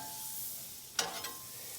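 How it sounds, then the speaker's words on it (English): Butter hits a hot Blackstone flat-top griddle with a sudden sizzle at about one second, flaring into a bright hiss that fades and then swells briefly once more, over a steady low background hiss. "I'm going to throw on some butter."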